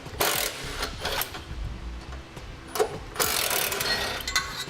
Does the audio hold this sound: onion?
no